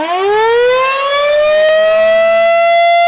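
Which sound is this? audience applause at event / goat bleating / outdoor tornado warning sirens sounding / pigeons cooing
outdoor tornado warning sirens sounding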